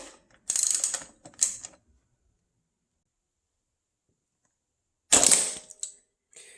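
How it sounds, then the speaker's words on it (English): A ratchet wrench removing bolts from a motorcycle, with two quick bursts of close, loud ratcheting clicks, a pause of silence, then another burst. "there's going to be two more bolts here on the side that I'll remove as well"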